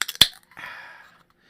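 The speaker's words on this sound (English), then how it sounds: "I'm gonna crack a beer open too while I'm doing this." A beer can cracked open close by: one sharp metallic snap, then a short fizzing hiss of escaping gas that fades within about a second, with no talk over it.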